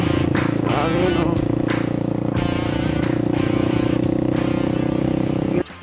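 A Microbike MX150XR motorcycle ridden on a mountain road in Nueva Vizcaya, its engine droning loud and steady with wind buffeting, while a rider talks continuously over it before the sound cuts off abruptly.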